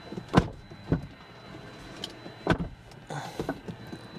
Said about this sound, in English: I can get the door to shut.